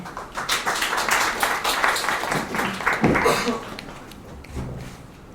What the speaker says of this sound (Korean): 다음 분 이영로님 박수로 모시겠습니다